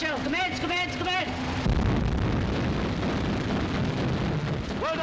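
Warship guns open fire with star shells in a 1942 war film, a sustained heavy roar of gunfire and rumbling blasts after shouted orders, with a voice calling out again near the end.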